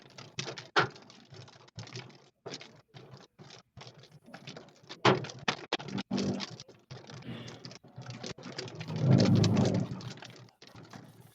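Hailstones falling during a severe tornado-producing storm in the Texas and Oklahoma panhandle region, heard as scattered sharp clattering impacts that build into a denser, louder patter later on.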